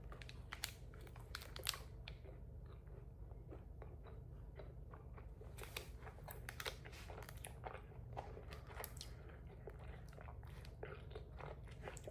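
A protein bar with crunchy cookie bits is bitten and chewed close to the mic, with a steady run of crisp crunches and soft wrapper crinkles, quiet and without talk.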